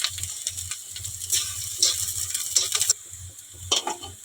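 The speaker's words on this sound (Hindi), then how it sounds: "ये दे प्याज ला मस्त से भूंज लेना है" Onions frying in a pan for a Chhattisgarhi leafy greens dish, a close sizzle mixed with repeated rhythmic stirring scrapes and clatters of a spoon against the pan, with no speech.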